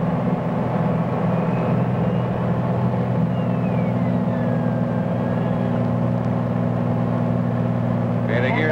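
Steady loud drone of a small airplane's engine in the cockpit while the landing gear and flaps are lowered, a constant low hum with faint whining tones gliding through it and a brief rattle near the end.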